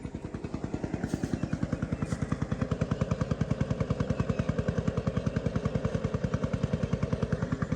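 A tractor on 18-inch tyres labours at high revs while stuck and slipping in mud beside a maize field, its engine pounding in a steady rapid rhythm, loud and close throughout with no talk.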